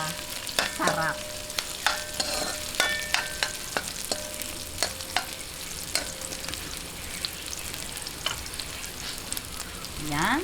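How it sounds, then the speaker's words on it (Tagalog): Stir-frying in a pan while cooking chicken paksiw: a continuous sizzle under frequent scraping and clacking spoon strokes, close up, with a few brief tonal squeaks. "gisahin lang po natin bago natin ilagay yung ating chicken"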